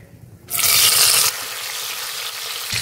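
Chopped tomatoes hit hot oil with a sudden loud hiss, then settle into a steady, softer sizzle close by.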